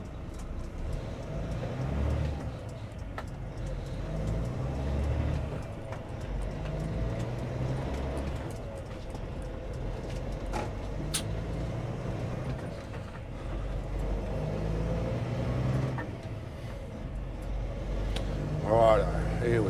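A bobtail semi truck with no trailer attached, driving on the road during a test drive, giving a steady low engine rumble and road noise throughout at a constant loudness.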